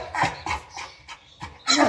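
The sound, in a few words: dog panting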